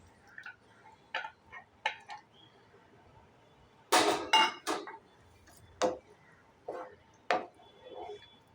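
Mutton mince tipped into a kadai and stirred with a spatula, giving a run of separate clanks and scrapes against the metal pan, with a louder cluster of knocks in the middle and quieter taps afterward. No one speaks.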